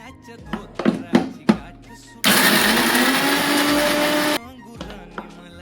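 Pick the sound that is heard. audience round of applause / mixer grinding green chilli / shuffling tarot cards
mixer grinding green chilli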